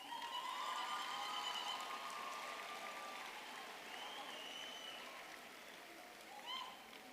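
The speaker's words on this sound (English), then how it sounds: "A big round of applause" A large audience at a university graduation ceremony applauds the graduates, a broad sustained roar of clapping heard from a distance, with whistles or cheers riding on top and a brief swell near the end.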